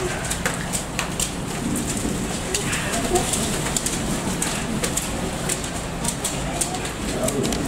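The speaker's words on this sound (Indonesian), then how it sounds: "Wow, masih hujan lebat," Heavy rain pours down steadily outdoors, a dense continuous hiss with scattered louder drops and faint background voices.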